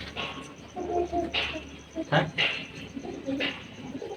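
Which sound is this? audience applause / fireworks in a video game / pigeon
pigeon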